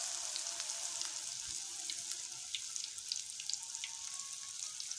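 Eggplant pieces frying in oil give a steady, faint hiss with scattered crackling pops throughout, no voices present.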